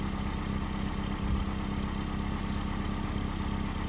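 Steady, close mechanical hum of a freshly rebuilt Toyota 1ZZ-FE four-cylinder idling slightly high in a 2001 Chevrolet Prizm, an even drone with constant vibration and no talk.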